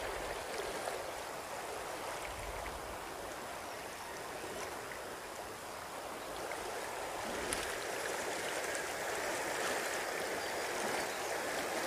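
The Umanod River runs past farmland in a soft, continuous rushing wash. The flow sounds fairly distant and quiet and stays steady, with no voices.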